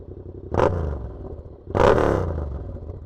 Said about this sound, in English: Here, we'll give it like a little rev.